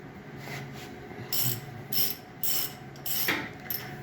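A bus engine is bolted into a tractor with a ratcheting tool. Short bursts of ratchet clicking and metallic mechanism noise repeat over a low background hiss.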